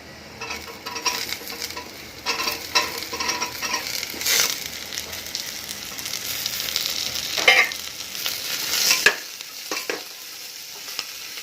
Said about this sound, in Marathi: आता आपण आपले बटाटे आणि गाजर टाकूया